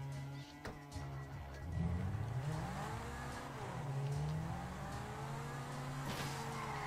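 A car engine in GTA 5 rises and falls in pitch as it revs and shifts, a steady droning motor with a sharp knock near the start and another later, heard close and without speech.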